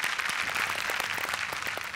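A dense burst of audience applause, many hands clapping steadily and loudly from start to finish.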